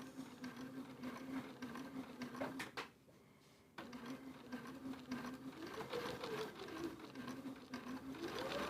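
A sewing machine stitches through quilt fabric, its steady whirring hum running close and continuous, with a brief pause partway before the motor picks up again and varies slightly in speed.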